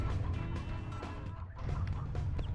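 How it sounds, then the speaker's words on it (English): Featherless baby chicks in the Earthworm Jim 3D video game cluck and squawk in a busy, continuous run of fowl-like gobbling, mixed with dense game sound. "Well, I guess they're, you know, baby chicks."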